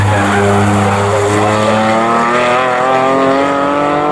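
Morgan race cars roar past on the Snetterton circuit in a continuous loud engine howl, pitch sliding as the pack squabbles for position, with no voices over it.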